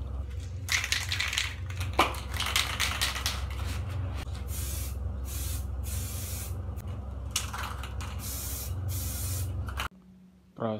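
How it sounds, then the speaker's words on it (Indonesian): Epoxy primer is sprayed onto parts of a 1953 BSA Bantam motorcycle, a steady close hiss broken by short pauses and bursts, ending abruptly in a brief quiet. "Proses pengecatan dasar atau poxy."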